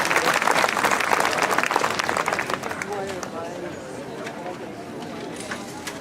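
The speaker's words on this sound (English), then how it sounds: "A nice round of applause for them putting up our flag tonight." Audience applauds the Troop 103 flag raisers at an evening guard band concert, a dense, loud burst of clapping that gradually thins and softens over several seconds, with some murmured talk underneath.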